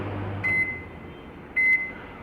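An IFB 17-liter grill microwave oven, model 17PG3S, starting its deodorize program gives two short electronic beeps about a second apart over a low background hum.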